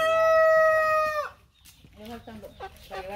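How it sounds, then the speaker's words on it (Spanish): Chickens at a home, a loud rooster crow held for over a second, then a run of close clucks and short calls that follow in quick succession. "Y aquí van los little chickens."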